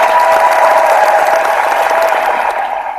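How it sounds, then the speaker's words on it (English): A crowd claps steadily in dense, sustained applause that fades slightly toward the end. "So Amelie, I'm going to give you a round of applause."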